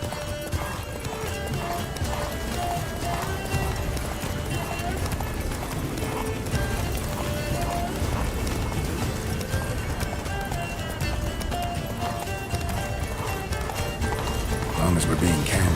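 Roach the horse gallops in Witcher 3, a steady, rhythmic clip-clop of hooves running continuously under music and voices speaking throughout.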